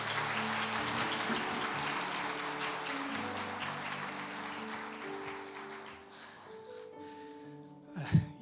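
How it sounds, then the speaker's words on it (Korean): Church congregation applauding at a Sunday worship service as a pastor comes forward, a broad steady wash of clapping with sustained organ or keyboard tones underneath, thinning out near the end with a brief louder thump. "우리 최소연 목사 나오실 때 따뜻한 박수로 맞이해 주시면 고맙겠습니다."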